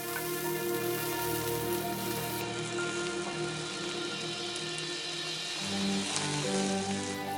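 Red onions sauté in a tablespoon of avocado oil in a non-stick pan over medium heat, giving a steady, close sizzle like light rain, with no talking.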